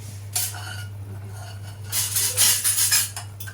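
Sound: lid lifted off pot of chicken curry, spoon clinking

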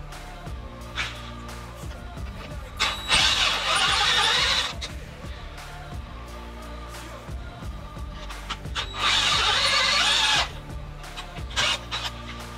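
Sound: power drill drilling out a hole

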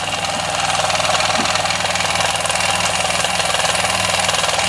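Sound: Weeden model toy steam engine running

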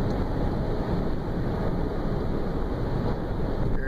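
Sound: Honda Insight car driving in fifth gear

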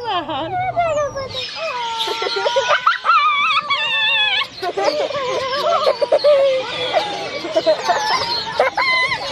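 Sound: turkeys calling at a petting farm

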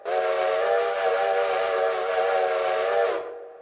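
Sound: default steam locomotive whistle from the video game Railroader

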